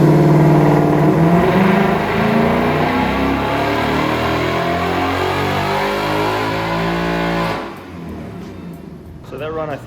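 A stock car running E85 fuel revs hard on a dyno, engine pitch climbing steadily through a long loud pull before dropping off abruptly and winding down.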